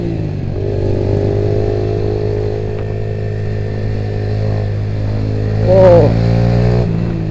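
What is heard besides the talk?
Honda Nova Sonic 125 motorcycle riding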